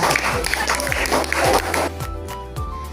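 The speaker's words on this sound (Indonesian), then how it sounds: "Oke, tepuk tangan." Students in a classroom clap after a group presentation, a short round of applause over low thumps that fades after about two seconds as voices take over.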